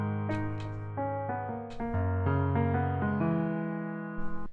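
The FL Studio Close Grand piano plugin plays a short phrase of clear, sustained notes and chords, close and dry, with no voices.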